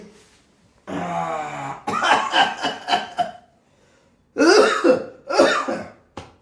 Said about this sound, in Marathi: खोकला तर काही थांबा ना थांबा